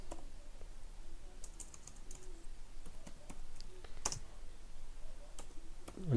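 Quick, irregular keystrokes on a computer keyboard while typing Java code, soft and close, with scattered louder clicks and brief pauses.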